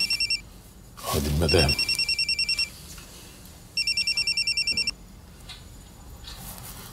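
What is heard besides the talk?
telephone ringing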